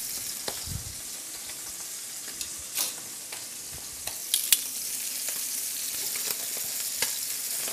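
Scallops sauté in a hot pan with a steady, dense sizzle and occasional crackles and pops, close up, with no talking.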